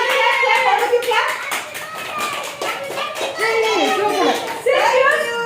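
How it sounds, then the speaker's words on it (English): Children and guests at a two-year-old's birthday party clap along in quick, uneven bursts while a voice and other chatter ring out over the applause. "Clap, all of you clap."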